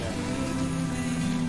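Rain from a Death Stranding game trailer, a dense, steady patter of falling water on surfaces, loud and unbroken throughout.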